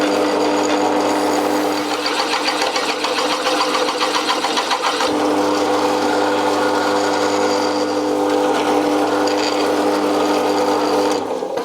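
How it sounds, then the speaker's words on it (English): A drill bores a 17 mm hole in a clamped steel tractor lifting-arm piece, a steady loud mechanical whir with a constant motor hum that shifts in texture partway through and runs alone without talk. "so let's drill it out"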